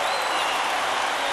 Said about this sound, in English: And Bohr is imploring the crowd.